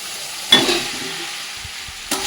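Steady sizzling of fried cauliflower and potato pieces in hot oil, with two sharp scrapes of stirring breaking through the hiss.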